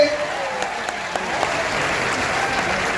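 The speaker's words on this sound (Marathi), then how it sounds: "एकदा जोरदार टाळ्या वाजवा तुमच्या मायबापासाठी." A crowd of students claps together at a career guidance gathering in Nanded, a sustained, fairly loud wash of applause with some voices audible beneath it.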